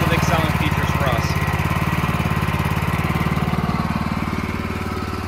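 A 2019 BOSS Snowrator ride-on sidewalk machine runs close by, its small engine droning steadily with a rapid pulsing note that fades slightly toward the end, with faint voices in the background.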